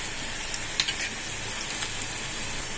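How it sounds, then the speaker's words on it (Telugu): Seven or eight peeled garlic cloves fry in hot oil for horse gram soup, giving a steady close crackling sizzle with a few faint clinks. "ఇప్పుడు పొట్టు తీసి పెట్టుకున్న తెల్లుల్లి రబ్బలు ఒక 7-8 వేసి బాగా బ్రౌన్ కలర్ వచ్చేంత వరకు వేయించుకోవాలి"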